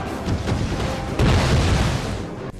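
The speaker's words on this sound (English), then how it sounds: "They counter with grenadiers, throwing explosives into the British square" Dense battle rumble from a gaming session, booming explosions of grenadiers hurling explosives into a British infantry square, a heavier blast landing midway over continuous low roar and clatter.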